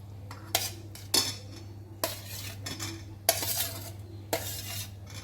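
Paneer pieces being mixed with garam masala and spices in a bowl for a marinade: several sharp clinks and scrapes of a spoon against the dish, close and fairly quiet, over a steady low hum, with no voice.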